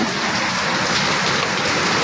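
Heavy rain pours down steadily, a dense, close hiss of drops hammering a surface with no pauses.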